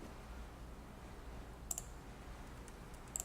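A computer mouse clicks during modeling work in Maya 2018: two quick pairs of faint, sharp clicks stand apart over a low, steady room hiss.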